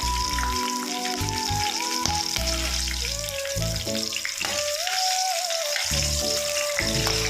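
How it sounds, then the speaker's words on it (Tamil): Spices and green chilies fry in hot oil with a steady sizzling hiss beneath louder background music, the crackle continuing evenly throughout with no voices. "இப்போ நம்ம ஸ்பைசஸ் எல்லாம் சேர்த்துக்கலாம் ஸ்பைசஸ் கூட நம்ம பச்சை மிளகா சேர்த்துக்கலாம்"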